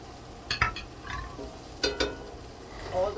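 Onions going into a pan for a frittata give a low sizzle punctuated by a few sharp scraping stirs and clinks of a utensil, close and moderately loud, with no talking.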